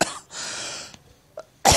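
Someone coughing: a couple of rough, breathy bursts close to the listener, separated by a short pause and a tiny catch of breath, ending in a loud final hack.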